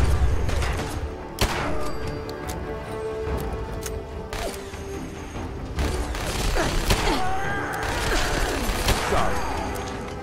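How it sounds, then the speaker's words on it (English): Explosive pistol shots in Fallout 4, a string of sharp cracks with bursting impacts scattered through the passage, loud and close amid mechanical clanks and creaks from the game. "Perfect way to test out my new explosive pistol."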